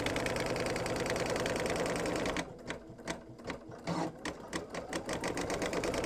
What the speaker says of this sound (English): It's tacking it down on either side.